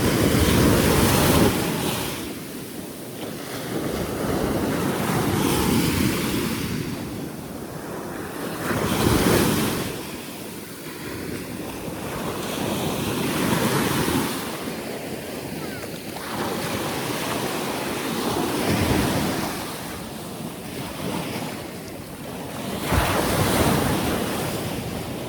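Ocean waves break and surge repeatedly on a beach, rising and falling in loud swells every few seconds with steady wind rumble on the microphone and no talk.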